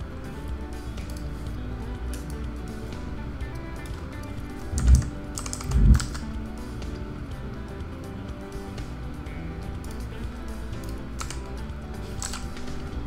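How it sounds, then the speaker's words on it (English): Computer keyboard typing runs steadily at low level across the whole stretch, with two slightly louder thumps near the middle and no talking. "Now we're gonna type some text"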